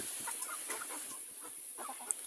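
Soft clucking from several chickens, scattered short calls over a constant high-pitched hiss, with one brief sharp chirp near the end.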